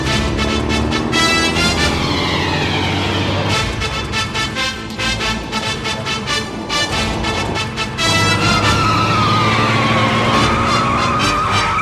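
A car driven fast in an action movie scene roars and revs hard, with screeching tires and skidding over loud, dense engine noise that swells and surges repeatedly.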